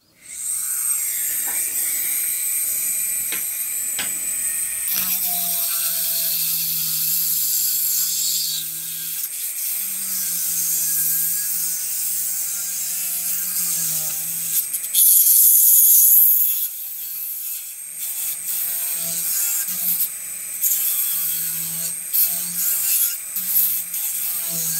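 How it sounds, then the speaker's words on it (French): A small electric nail sander buzzes with a high, steady whine, its pitch shifting slightly as it grinds against a nail mould for a long stretch. "Pour ça, on prend simplement une ponceuse."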